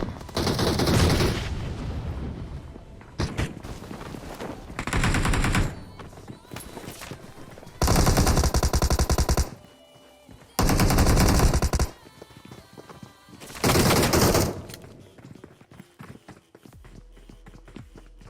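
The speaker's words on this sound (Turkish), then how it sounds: "Otomatik silah." Automatic weapon fire in PUBG Mobile, played on an iPad, comes in several loud, sustained bursts of rapid shots separated by short quieter gaps with game noise between them.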